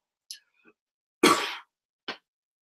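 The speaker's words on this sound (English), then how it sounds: "Now I got a cough, brother." A man coughs once, harshly, as a brief broadband burst in the middle, with faint throat sounds and small clicks before it and a shorter rasp after, in otherwise quiet surroundings.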